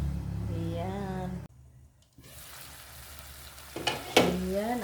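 Corned beef sautéed with vegetables sizzles in a pan, a steady near hiss broken by a short quiet pause, with a voice speaking over the sizzle at the start and end.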